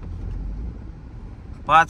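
Road traffic in Pune sends up a low, steady rumble of passing vehicles, with a voice briefly cutting in near the end.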